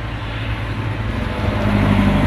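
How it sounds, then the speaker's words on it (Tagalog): A Mitsubishi 4D56 diesel engine idles in a restored owner-type jeep, a steady low rumbling drone close by that grows slightly louder and rougher toward the end, with no talk. "Ayan ang ating makina, 4D56 Mitsubishi."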